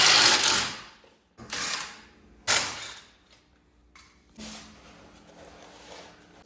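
Wheels coming off a Nissan 240SX, heard as three sharp, loud bursts of a pneumatic impact gun or mechanical whirring early on, followed by a softer, longer mechanical run near the end, with no talking.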